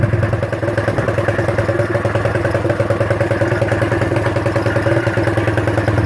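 A Suzuki LT 125 ATV engine runs steadily with a new fuel pump fitted, its close, loud, even thumping putter holding a constant idle-like rhythm from start to finish with no one talking.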